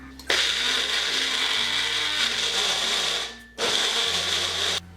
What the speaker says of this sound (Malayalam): തണുത്ത സവാളയുടെയും തക്കാളിയുടെയും ഒക്കെ കൂട്ട് ഈ ജാറിലേക്ക് ഇട്ടിട്ട് നല്ലതുപോലെ ഇതും അരച്ചെടുക്കാം